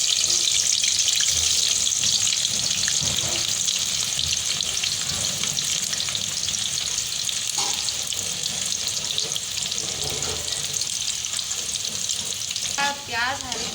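Chopped onions frying loudly in hot oil seasoned with achari pickle spices for masala bhindi, a dense continuous sizzle with occasional stirring scrapes, close and steady throughout.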